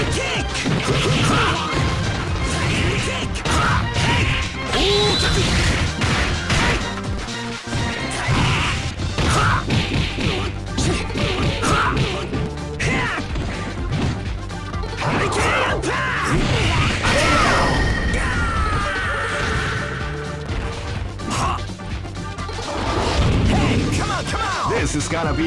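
Kicks land in the Capcom vs SNK 2 fighting game, a rapid barrage of loud smashing impacts amid character shouts and busy game effects that continue densely throughout.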